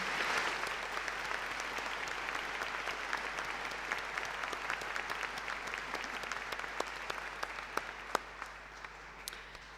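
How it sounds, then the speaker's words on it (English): A large graduation ceremony audience applauds steadily for the cathedral organists and fanfare trumpeters, a dense sustained wash of many hands clapping with a few sharper claps standing out near the end. "I would love them to get a round of applause."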